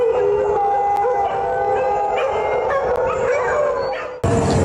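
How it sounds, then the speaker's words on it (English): Several local dogs in Mandalay, Myanmar howl and bark in an agitated, drawn-out chorus, with overlapping wavering howls and some yips and whimpers carrying on steadily, then a sharper burst at the end. "Some local dogs also became agitated and kept on barking."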